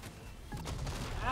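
A grenade goes off in the Mass Effect 3 video game, a sharp burst within ongoing gunfire and combat noise, with a player's voice talking over the game audio.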